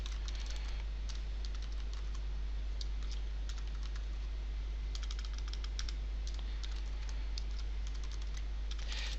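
Steady typing on a computer keyboard, quick irregular key clicks in runs and short pauses over a constant low hum, fairly faint and with no voices.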